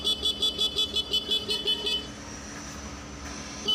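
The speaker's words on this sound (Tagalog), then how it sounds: "Okay, ayan yung ating busina." Honda TMX155 motorcycle horn tested during a headlight switch conversion: a rapid series of about a dozen short, even toots for two seconds, then engine hum alone.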